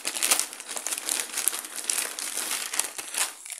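Crinkly plastic wrapping of a gift parcel rustles and crackles continuously as it is opened up close, steady handling noise with no talking.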